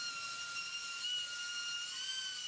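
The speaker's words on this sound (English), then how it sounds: "Here I'm just sanding this to 220," Wooden bowl spinning on a lathe while being sanded to 220 grit, a faint steady high whine with a hissing edge, continuous and alone.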